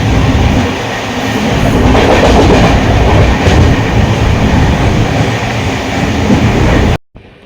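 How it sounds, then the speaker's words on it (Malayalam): The Thiruvananthapuram–Rishikesh superfast sleeper train rolls loud and close through Haripad station without stopping, its heavy rumble and clattering wheels steady before cutting off abruptly near the end. "ട്രെയിൻ ഇതാ ഹരിപ്പാട് റെയിൽവേ സ്റ്റേഷനിലേക്ക് എത്തിക്കൊണ്ടിരിക്കുകയാണ്."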